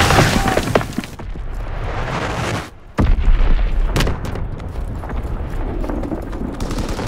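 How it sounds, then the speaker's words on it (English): A bomb goes off in Call of Duty: World War II, a heavy booming blast that fills the mix, dips briefly, then crashes back with a second loud impact and sustained rumbling battle noise. "Enemy bomb incoming."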